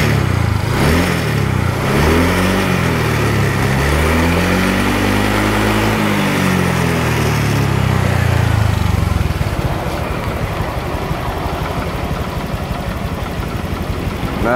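A cold Honda Vario F1 scooter engine, with a radiator coolant leak from the overflow hose, rises and falls through a couple of revs from idle, then settles back into a loud, close, rattly idle.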